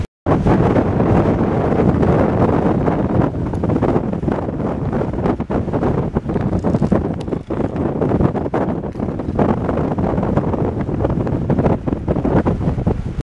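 Strong wind ahead of an approaching storm buffets the microphone in a loud, continuous roar with gusty surges and no voices.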